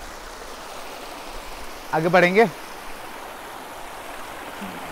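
Continuous gentle rush of a flowing forest stream near Bangalore, with a short spoken phrase from a man briefly rising above the water.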